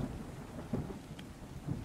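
A thunderstorm with rumbling thunder over steady rain, heard alone in the ARK: Survival Evolved Fjördur game world; low rolling booms with a dense hiss of falling rain.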